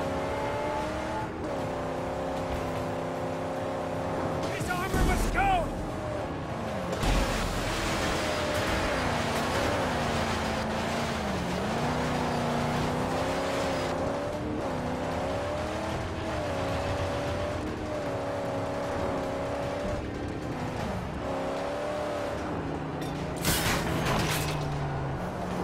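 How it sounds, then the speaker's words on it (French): A heavy vehicle engine in the post-apocalyptic Mad Max game on PC rumbles with a deep, tank-like drone, revving and shifting pitch throughout, with tire squeals and bursts of game sound over the steady roar. "Sa bagnole a fait un bruit de tank."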